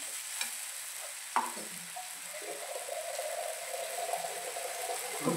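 Mashed eggplant bharit mixture frying in a pan, a soft steady sizzle with a few sharp spoon knocks and scrapes as it is stirred, close and fairly quiet throughout.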